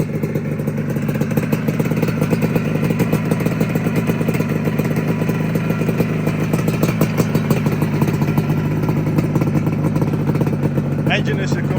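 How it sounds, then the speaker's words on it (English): A Suzuki T500 classic racer motorcycle engine runs close by, a loud, rapid two-stroke clatter that stays steady and rough throughout, with no one speaking. "Engine is completely done for this bike."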